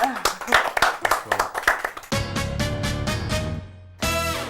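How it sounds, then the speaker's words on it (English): Studio audience applauds a guest speaker on a campus TV show, a burst of clapping for about two seconds that gives way to loud music. "Round of applause, everyone."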